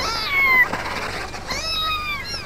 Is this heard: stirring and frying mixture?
no